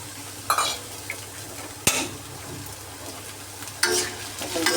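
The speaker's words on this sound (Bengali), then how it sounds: "এখন লবণ হলুদ দিয়ে ভাজা ভাজা করে নেব।" Pointed gourd frying with green chilies, salt and turmeric in a pan, a soft steady sizzle broken by a few sharp clanks and scrapes of a stirring spoon against the pan.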